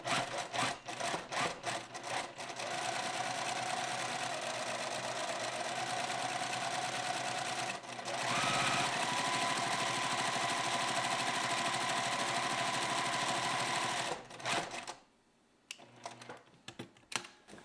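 A sewing machine stitches white shirt collar fabric with black thread about 5 mm from the edge, running in quick bursts for the first two seconds, then a long steady whirring run before stopping near the end.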